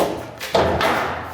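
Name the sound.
cabinet part dropped down into place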